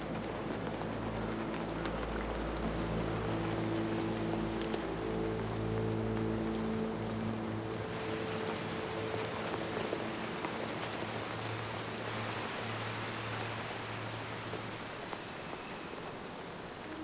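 Rain falls steadily in pangolin habitat, a dense pattering wash on surfaces with low tonal hums partly beneath it, sustained throughout and unaccompanied by speech.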